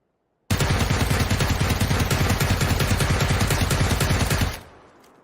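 Rapid automatic fire from a UMP fitted with a compensator in PUBG training mode on Xbox: one long, loud, continuous burst of about four seconds that cuts off abruptly into a short tail.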